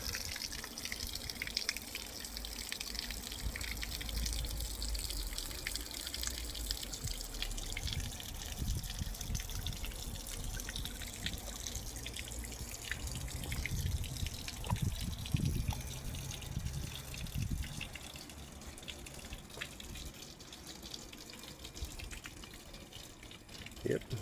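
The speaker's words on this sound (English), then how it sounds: "I imagine the frog's up under the waterfall there somewhere. I raised this waterfall a little bit too." Water spilling down a small garden pond waterfall, a steady gentle trickle and splash that continues throughout at low level, with occasional low thumps and rustles close by.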